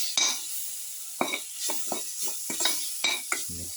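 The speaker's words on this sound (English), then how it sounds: "Thoroughly saute mix." Spoon scraping and stirring a garlic tomato mixture sautéing in a pan, a series of short scrapes and clinks over a soft sizzle, ending with a duller knock.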